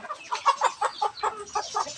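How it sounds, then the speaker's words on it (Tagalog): Flock of four-month-old breeder hens clucking in a dense, continuous chorus, many overlapping calls close by with no voices. "Ito na po yung mga manok natin dito agaw"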